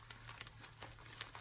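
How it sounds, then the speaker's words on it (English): Paper packaging of a craft swap parcel crinkles and rustles as it is cut open with scissors, a run of soft, close crackles and small snips over a steady low hum. "I'm going to get my handy scissors out, but I'm going to cut this open"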